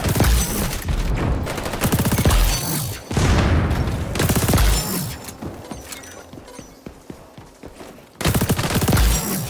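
SMG gunfire in the first-person shooter XDefiant, rapid automatic bursts loud and close, broken by brief pauses and player movement sounds between volleys.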